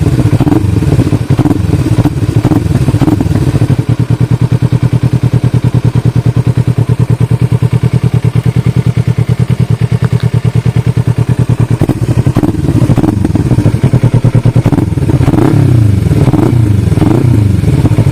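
Kawasaki Ninja 300 motorcycle, already warmed up, idling with a steady twin-cylinder drone and then revved repeatedly, close and loud throughout with no speech.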